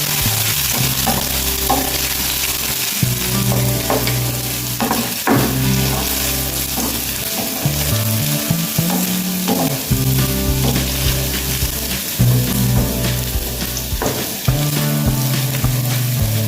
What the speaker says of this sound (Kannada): ಶುಂಠಿಯನ್ನು ಕೂಡ ಹಾಕುವ. ಇದನ್ನೀಗ ಚೆನ್ನಾಗಿ ಫ್ರೈ ಮಾಡುವ.